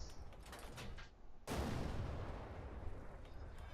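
A tank cannon fires in a video game, a sudden heavy blast with a broad, noisy rumbling tail over low ambient game sound.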